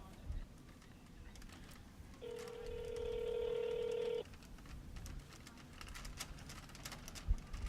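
A single steady telephone keypad tone sounds for about two seconds as a call is placed during a live fantasy draft broadcast, over faint room noise and scattered clicks.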